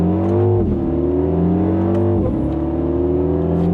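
A MINI John Cooper Works car engine revs hard, pitch climbing steadily, then dips briefly as gears shift and climbs again, loud and close with no talking.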